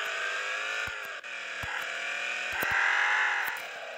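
Engine of a taxi in the game Taxi Sim 2020 drones steadily while the car drifts and slides, with a rising whine near the end and a few sharp clicks scattered throughout.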